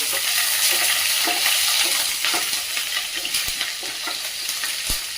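Green chilli pieces fry in a pan with a dense, continuous sizzle, broken by scattered scraping and clicking as a spatula stirs them. No voices.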